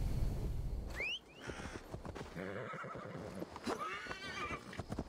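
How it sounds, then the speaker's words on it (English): A horse whinnies loudly in the video game Assassin's Creed Valhalla, its voice rising and falling, followed by hooves clip-clopping as it moves along. "where's my horse?"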